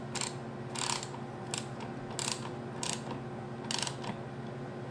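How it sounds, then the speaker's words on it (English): A socket ratchet turning to tighten a wheel, giving repeated bursts of clicking in an even rhythm, about six strokes, close and moderately loud with no talking. "And then just turn your ratchet."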